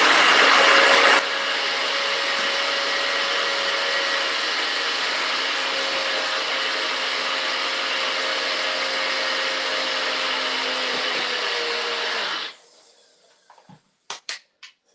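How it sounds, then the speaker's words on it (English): A NutriBullet blender grinds dried agar into powder with a loud, steady motor whine for about eleven seconds. It then cuts out, followed by a few light knocks and taps. "I'm just going to blitz that into a powder in my NutriBullet"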